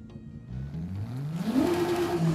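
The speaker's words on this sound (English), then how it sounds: "You will actually hear the starter motor turning the engine over." A car engine in the video game Forza Horizon 5 cranks over on its starter motor and catches, its tone climbing steadily in pitch as it spins up, heard alone at close range.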